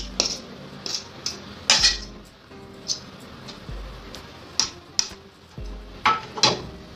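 A fork works butter into flour for pâte brisée dough, giving irregular sharp clicks and scrapes against a bowl, some close and crisp, separated by quieter stirring.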